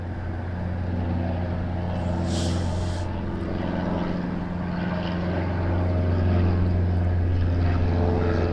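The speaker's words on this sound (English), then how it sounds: "So the hurricanes will be coming in from over Canvey" Hawker Hurricane propeller fighters approaching the airfield at Southend, a steady low droning engine rumble that holds and builds slightly louder toward the end, with no talking.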